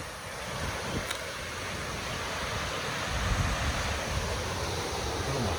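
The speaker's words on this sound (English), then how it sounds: "Look at this water rushing." A Missouri river pours into the Block Hole sinkhole with a steady, broad rushing roar of water, loud and continuous throughout, with some wind buffeting on the microphone and no talking.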